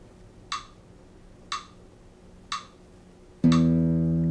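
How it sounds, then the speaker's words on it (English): A slow metronome at about 60 beats per minute ticks three times at even one-second intervals, then a fingerstyle guitar note rings out loudly and sustains alongside the fourth click. "Set a metronome to a very slow tempo, like 60 beats per minute"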